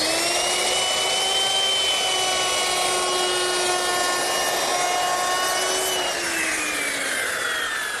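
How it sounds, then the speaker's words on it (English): A handheld router shapes a bull-nose edge on a wooden board, a loud continuous high-pitched whine with shifting tones that holds steady throughout, then dips in pitch near the end as the bit bites. "you might think that you can make that bull-nose with your handheld router"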